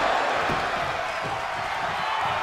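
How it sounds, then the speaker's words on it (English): Arena crowd noise from the WWE 2K22 wrestling game during an NXT tag team match, a steady roar of cheering that holds at an even level throughout. "Taking a moment to get pumped off of this crowd's incredible energy."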